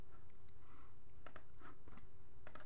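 Several quick key taps on a computer keyboard as a layout name is typed, sparse clicks in short bursts over a steady low hum, fairly quiet and close.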